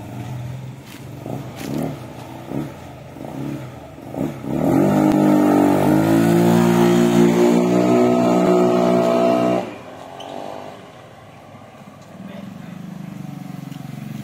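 A modified fuel-injected Yamaha Mio 4V scooter fitted with a stock NMAX exhaust pipe revs hard and loud for several seconds with a rising engine tone, then drops back to a quieter idle as it pulls away, with some background voices.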